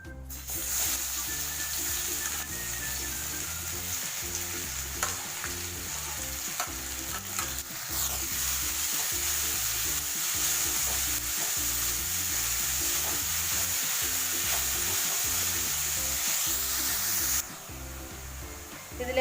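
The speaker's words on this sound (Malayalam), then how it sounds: "ഇതിലേക്ക് ഒരു 3 മീഡിയം സൈസ് സവാള ചെറുതായിട്ട് അരിഞ്ഞത് ചേർത്ത് കൊടുക്കാം." Chopped onions, three medium ones, fry in cooking oil in a pan for a butter chicken, giving a steady loud sizzle throughout with repeated stirring scrapes on top and no talk.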